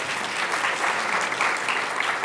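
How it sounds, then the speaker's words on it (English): Sustained applause from a conference audience at a pharma industry event in Philadelphia, steady clapping throughout with no talking over it. "round of applause for the panelists"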